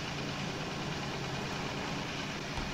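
A tractor engine idles in Farming Simulator 19, a steady, continuous low rumble with a broad hiss, constant in level and heard alone with no talk.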